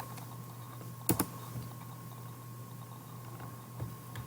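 A couple of quick, sharp keystrokes on a computer keyboard while a search term is typed, followed by a few faint clicks over a steady low hum.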